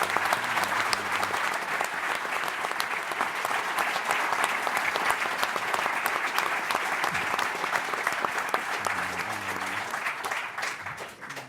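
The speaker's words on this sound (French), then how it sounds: "on pourrait aussi les applaudir" A conference audience applauds at a talk on the Bruniquel Neanderthal mystery, with sustained, even clapping from many hands that carries on for over ten seconds before tapering slightly at the end.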